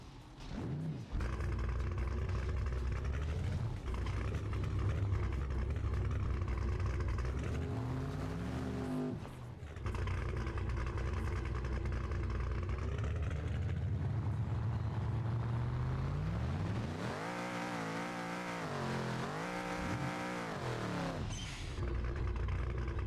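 A tuned F-Body car in the BeamNG drag racing game roars through a five-second true-street drag pass, its engine revving loud and continuous, climbing through gears with brief shift dips and a final surge near the end.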